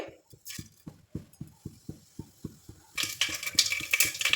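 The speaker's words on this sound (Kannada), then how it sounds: "ಸಾಸಿವೆ ಸಿಡಿತಾ ಇದೆ" Mustard seeds in hot oil for lentil sambar: soft, regular ticking at first, then a sudden burst of sharp, scattered crackling and spattering, close to the microphone and fairly quiet overall.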